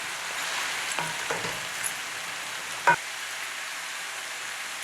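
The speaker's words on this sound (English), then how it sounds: "Now we'll add the cabbage to the pot" Cabbage being added to a pot and stir-fried, a continuous close sizzle with a few scraping stirs and a sharp clank near the end.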